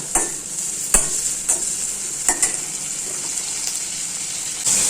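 Anchovies fry in a kadai with garlic, onion, tomato, fennel and curry leaves, giving a steady bright sizzle punctuated by regular scraping stirs of a ladle against the pan.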